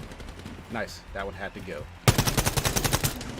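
Rapid gunfire bursts from the Quantum League video game, loud and close, a steady run of repeated shots following a stretch of talking.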